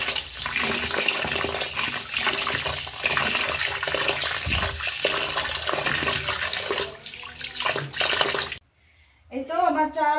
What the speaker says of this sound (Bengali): তো আমি এখন এই তো চাল ডাল সব একসাথে মিক্সচার করছি, এখন ভালো করে ধুতে হবে পরিষ্কার করে।